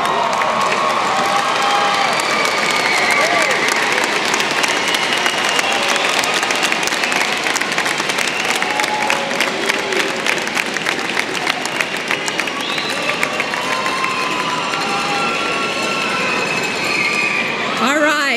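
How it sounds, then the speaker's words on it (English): Standing graduates at a University of Arizona business-school commencement clap and cheer for their families in a large hall, a loud, dense roar of applause and shouts sustained for well over fifteen seconds. "give them a round of applause"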